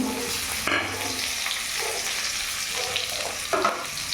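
Chopped onion sizzles in hot oil with dried red chillies in a kadai for a cabbage and fish-head dish, a steady close hiss with a few brief clatters and no talking.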